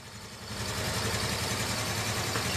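A 2019 Honda Grande scooter engine starts up and settles into a steady, close idle, a continuous even drone with no break.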